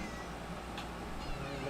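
Clover the cat gives a single soft, faint meow in a quiet indoor room, short and slightly distant over a low background hum.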